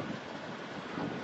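Wind blowing outdoors rushes steadily against the microphone as a dense, unbroken roar throughout this short moment.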